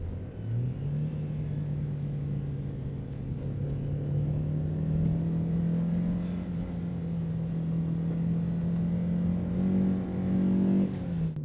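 A 1983 Honda Prelude engine drones and rises steadily in pitch as the car accelerates, heard from inside the cabin with a constant, moderately loud rumble.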